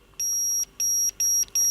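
Multimeter continuity buzzer heard as beeps through a smartphone speaker under test; four short, loud, high-pitched electronic beeps repeat in a steady on-off pattern with no talking.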